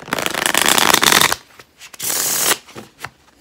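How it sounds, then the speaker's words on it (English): A deck of tarot cards being shuffled up close, with a loud riffling burst, a short pause, then a second riffle and a few soft card taps. "I see it every time I shuffle"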